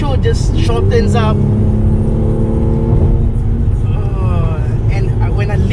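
Mercedes-AMG C43 sedan in Sports Plus mode, engine note rising steadily with climbing harmonics, then dropping and rising again as it holds gear, loud and continuous inside the car with someone talking over it.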